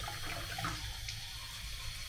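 Cold water runs steadily from a tap into a sink, a continuous close hiss and splash that holds evenly throughout without pauses or voices.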